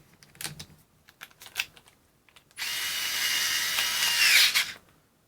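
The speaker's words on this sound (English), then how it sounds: "Let's just do that one more time on tightening." Bosch GO 3.0 3.6V cordless screwdriver driving a screw tight: a few clicks and taps, then a steady high motor whir for about two seconds that stops abruptly, close and clear, no talk.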